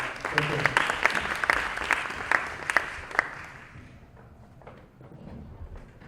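Applause for a man introduced as a startup founder now running an AI company, at an investment and ecosystem talk; sparse, spaced claps for about three seconds, then fading into quiet room noise.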